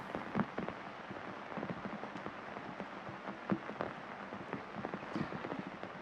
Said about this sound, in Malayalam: ശക്തമായ മഴയാണ് മലയോര മേഖലയിലും അതോടൊപ്പം തന്നെ തീരദേശ മേഖലയിലും ഉൾപ്പെടെ കാണാൻ സാധിക്കുന്നത്. മഴ ഇപ്പോഴും തുടരുകയാണ്.